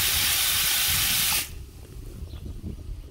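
Water sprayed from a hose nozzle onto squash plants in a backyard garden, a loud steady hiss that cuts off abruptly partway through, leaving quiet leafy rustling.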